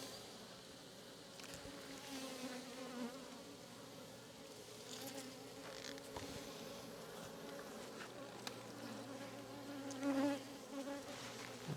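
Honeybees hum in a steady, dense drone from an opened, queenless hive during an inspection, continuous and close, with individual bees flaring slightly louder near the end.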